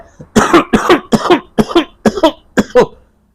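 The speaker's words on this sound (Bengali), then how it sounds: "এইরকম মানে অনবরত কাশি" A person coughs hard about seven times in quick, steady succession, close up, before falling silent.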